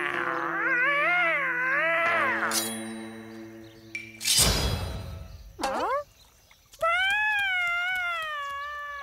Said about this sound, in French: écoute-moi le chat